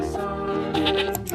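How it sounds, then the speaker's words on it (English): A goat bleats in a single drawn-out, wavering cry with a buzzy harmonic tone, close and clear with no talk over it. "Goat."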